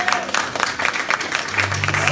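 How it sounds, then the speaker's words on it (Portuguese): A church congregation claps in praise during a sermon, brisk dense applause that fills the room with steady crackling hand claps, a low hum running beneath. "Aplauda o Senhor, queridos."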